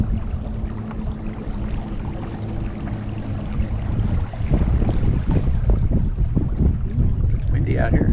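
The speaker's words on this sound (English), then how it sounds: "It's windy out here." Wind buffeting the microphone on a mangrove-lined creek, a steady rushing roar that grows louder and gustier partway through, with faint voices underneath.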